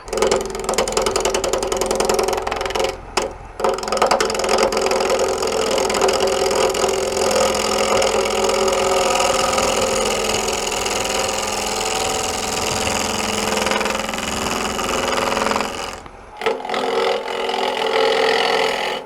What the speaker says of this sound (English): We'll turn the lathe down, get it started, and go ahead and speed it up from there